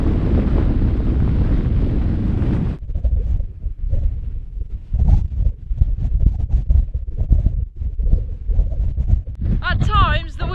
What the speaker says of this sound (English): At times the wind is so strong, you just literally can hardly stand up. It's so forceful.